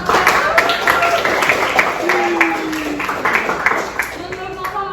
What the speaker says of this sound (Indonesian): Tepuk tangan buat Noval.